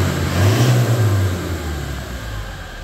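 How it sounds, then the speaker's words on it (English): A 2021 Toyota Hilux Invincible X Black Rhino pickup idles and is given a short rev, a low engine drone swelling briefly and then settling back to a steady idle, recorded close by. "Give it a little rev so you can see what she sounds like."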